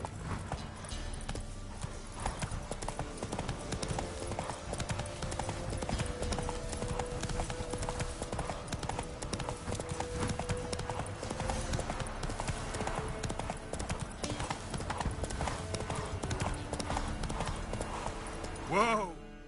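Rhythmic galloping hooves of a horse in The Witcher 3 run steadily and close over a busy game soundscape and music, with a voice speaking at points and a snort near the end.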